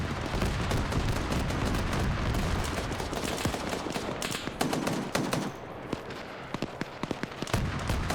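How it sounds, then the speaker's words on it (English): An armoured personnel carrier's turret gun fires in a military video game, dense rapid bursts of loud automatic fire rattling continuously, then thinning into separate sharp shots toward the end. "Ah, now the APC is gonna pick off everything."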